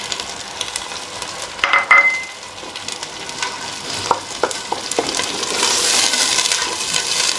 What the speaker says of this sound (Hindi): 1 से 2 मिनट के लिए अब टमाटर को भी फ्राई करेंगे।